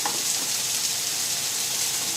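Spicy beefburger mixture frying in a pan: a continuous, bright, close sizzle holding even and steady throughout, with no talking.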